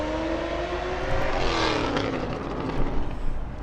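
A car engine revs hard at a car show, a rising roar that swells mid-clip and then passes off amid steady outdoor crowd noise, with no talk.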